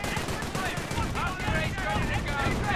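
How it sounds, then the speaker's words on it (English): Sniper rifle shot in the Company of Heroes strategy game, set among a dense, continuous wash of battlefield gunfire and rumble, with a commentator's voice running underneath. "Sniper fired away."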